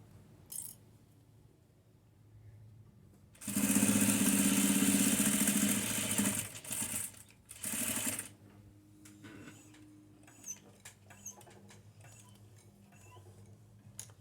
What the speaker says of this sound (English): Then I'll turn the quilt and start stitching it down going this direction next.